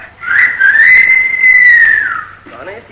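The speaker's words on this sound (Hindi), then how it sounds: "कौन है ये सीटी बजाने वाला?" A person whistles a long, clear, sustained melodic line, loud and close, with brief voices and background sound toward the end.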